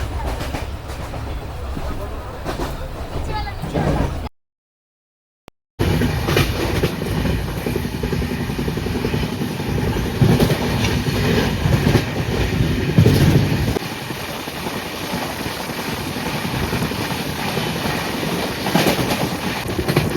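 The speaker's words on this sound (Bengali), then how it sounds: "প্রায় 45 মিনিট লেটে আমাদের ট্রেন এসে দাঁড়ালো নিউ জলপাইগুড়ি স্টেশন" A passenger train pulls into New Jalpaiguri station in North Bengal, its wheels clattering steadily over the rails up close, with station ambience and some voices in the background and a brief gap of silence partway through.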